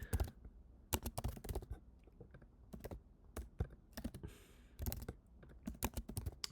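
Someone types on a computer keyboard close by, producing irregular bursts of crisp keystrokes with short pauses between them, alone and without speech.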